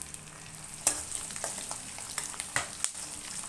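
Crushed garlic sizzles in hot oil in a pan for lemon rice, a steady close frying hiss broken by stirring clinks and small pops, with no voices.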